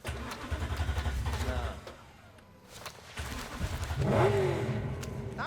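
Old rusty car in Cyberpunk 2077 coughs as its engine is started, rumbling low, dropping off briefly, then catching and revving up louder near the end, with a voice speaking over it.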